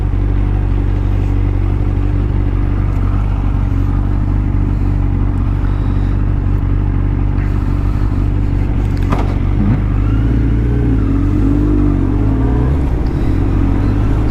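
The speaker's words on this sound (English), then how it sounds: "Big old BMW Tourer." A big BMW touring motorcycle engine runs close by, producing a loud, continuous low rumble that rises slightly at one point, with no voices over it.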